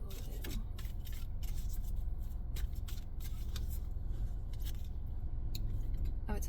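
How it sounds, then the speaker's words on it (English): A deck of tarot cards is shuffled softly at close range, giving quiet riffling and light slaps over a low background hum. "Let me shuffle it."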